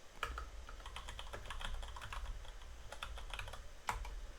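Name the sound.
typing commands on a computer keyboard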